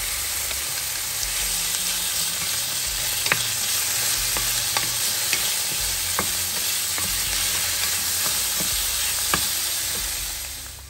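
Pork frying in a pan for Filipino pinakbet, a steady close sizzle with scattered scrapes and clinks of stirring throughout, fading out at the end, no talking.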